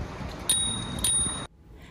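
A bicycle bell rings twice in quick succession at the launch of a Manchester cycling scheme, two bright, close metallic dings over a low outdoor rumble that cuts off abruptly.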